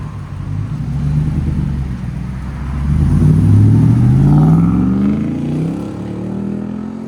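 A 2017 Ford F250 with a 6.2-liter V8, Flowmaster Flow FX exhaust, muffler and resonator deleted and a 5-inch tip, revs up in a deep, loud rising sweep, then settles back to a steady rumbling idle.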